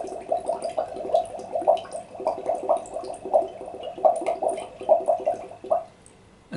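Gentle, even bubbles are blown through a straw or breath into a small glass of water as a singing breath exercise, giving a rhythmic bubbling gurgle in short pulsing bursts that stops near the end.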